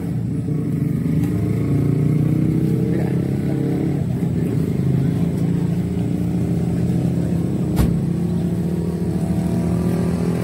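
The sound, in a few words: car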